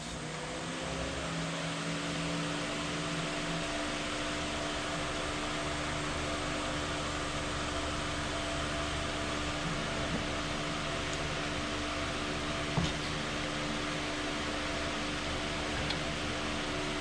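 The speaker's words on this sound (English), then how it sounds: "I gotta turn this fan on." Electric fan switched on in an outdoor wood-carving workspace on a warm day, a steady whirring hum with faint motor tones running unbroken and fairly loud throughout, no talking.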